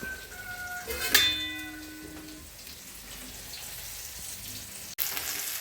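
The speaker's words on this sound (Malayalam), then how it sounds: "നമ്മുടെ വെണ്ടയ്ക്ക ഈ ഉള്ളി ഇതെല്ലാം വഴഞ്ഞു വന്നിട്ടുണ്ട്" Okra and onion sauté in oil with a moderate sizzle. A brief clatter comes near the start and a sharp knock near the end.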